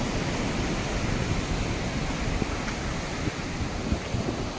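Water rushes out through the gates of the Somasila dam in a loud, steady roar, a broad continuous wash of noise with slight wind buffeting and no clear breaks.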